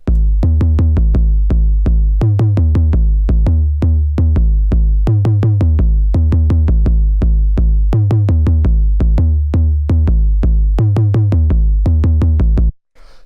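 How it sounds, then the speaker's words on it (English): An 808 drum machine kick sample plays alone in a steady repeating pattern, each booming low thump with a long sustained bass tail, loud and close, for about thirteen seconds. "it's literally just a kick out of an 808 drum machine"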